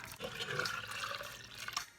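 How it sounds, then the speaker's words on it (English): Hot apple cider is poured from a container back into an Instant Pot, a short, close liquid splash and trickle lasting about two seconds. "take the liquid that's in here and pour it back into the pot"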